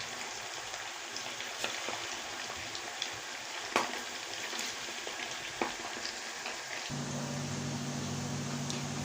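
Rice kofta frying in boiling oil, a soft steady bubbling sizzle with a few sharp clicks, thickening into a fuller, louder hiss over the last couple of seconds.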